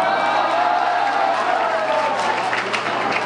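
An audience at a university Christmas dance party applauds after a rope magic trick, with sustained, dense clapping and some crowd noise holding steady throughout.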